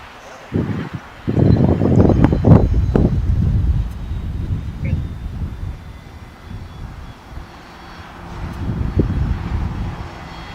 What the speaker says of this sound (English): coming from Haley, Idaho, with an Embraer E175LL.